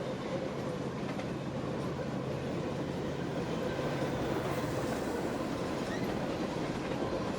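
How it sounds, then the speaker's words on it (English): A Norfolk Southern freight train passes at track speed on the CNO&TP 1st District, giving a steady, loud, continuous roar of rolling cars with clickety-clack wheel rhythm and faint squeal, with no pause throughout. "I love seeing trains running at track speed."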